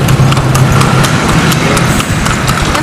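Horse hooves clip-clop in a steady, even rhythm on pavement on a street in Dagupan, loud and near, with an engine humming underneath.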